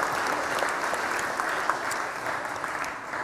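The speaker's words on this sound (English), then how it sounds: "let's give those guys a round of applause" Steady congregation applause in a parish church, many hands clapping in a continuous even patter at moderate distance, with no voices standing out.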